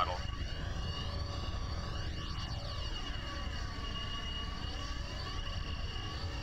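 ME262 jet engine in a flight video game winding down as the throttle eases, sweeping whine tones shifting over a steady rumble.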